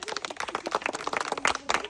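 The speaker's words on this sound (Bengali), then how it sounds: "হাততালি হাততালি হাততালি দর্শক, হাততালি।" An audience at a spin-the-wheel food game claps in a quick burst of sharp, dense slaps, fairly close and steady for about two seconds.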